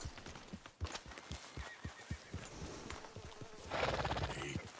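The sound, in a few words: horse from Red Dead Redemption 2 video game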